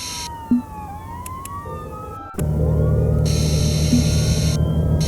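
A police car siren inside a video game, wailing with rising and falling tones over a steady low engine-like rumble, joined by a second siren layer partway through; no talking.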